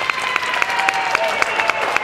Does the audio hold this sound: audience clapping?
yes